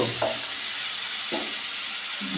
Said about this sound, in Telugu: ఇలా 2 నిమిషాలు ఉడికిన తర్వాత ఇలా తిప్పుకొని